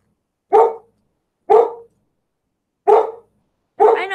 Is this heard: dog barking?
yes